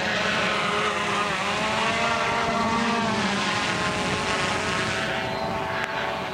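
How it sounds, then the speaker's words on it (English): Small unmanned quadcopter drone making its first flight over farmland in Moore County, Texas, a steady, loud buzzing rotor whine holding throughout, with wind noise and no talking. "This is the maiden voyage of our first unmanned aerial system or drone."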